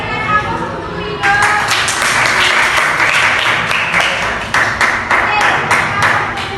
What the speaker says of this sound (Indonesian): Silakan berikan aplaus untuk Bu Ida.